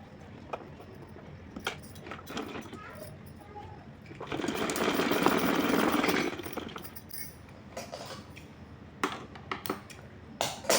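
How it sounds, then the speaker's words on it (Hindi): A sewing machine stitches diagonally across strips of fabric for a Laddu Gopal outfit, a steady mechanical whir that swells for a few seconds mid-clip amid scattered clicks and handling noise. "इसको तिरछा सिलाई लगाऊँगी"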